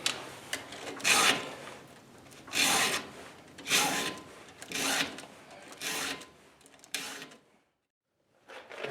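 A hand file rasps across the teeth of a Husqvarna X-Cut C83 saw chain in slow, close strokes, about seven rough grating passes with short pauses between them and a quiet gap before a final stroke.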